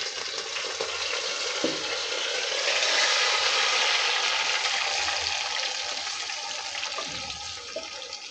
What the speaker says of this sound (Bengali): আমি মাংসটা ঢেলে দিচ্ছি।